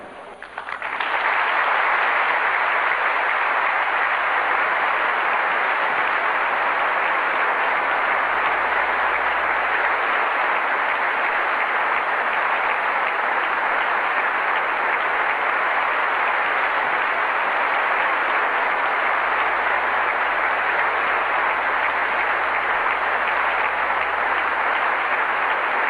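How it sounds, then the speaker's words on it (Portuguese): Warm, sustained applause from a large audience welcoming Brother Andrew at the Portas Abertas 25th anniversary event in Brazil: dense, even clapping that swells in the first second and holds steady and loud for the full duration. "eu convido a você a saudar com um caloroso aplauso aquele que o mundo inteiro aprendeu a conhecer como o irmão André"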